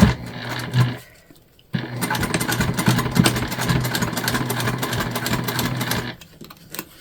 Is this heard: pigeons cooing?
no